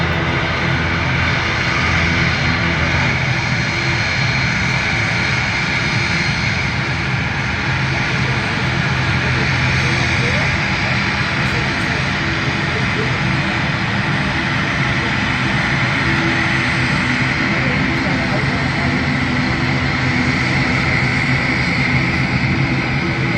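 An aircraft lands at an airport as fire trucks spray a water salute over it from two sides. A loud, continuous engine roar holds steady throughout.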